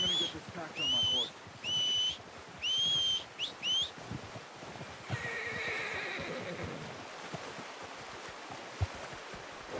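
A horse in the video game Red Dead Redemption 2 gives several loud, rising whinnies in quick succession, then steady clip-clop hoofbeats follow, with faint outdoor ambience.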